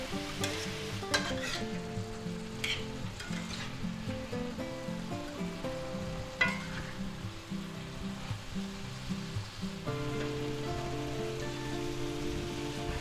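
Beef and mixed vegetables with mushrooms and a splash of red wine get stirred together in a hot pan, with steady sizzling, scraping and clinking of the utensil throughout, fairly close and without talk.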